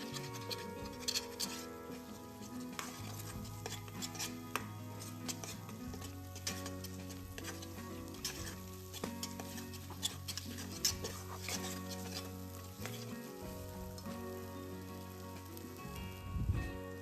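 Masala stir-fries in a pan on a medium-low flame while drumstick pod bhaji is cooked, a soft continuous sizzle and patter under a steady background drone.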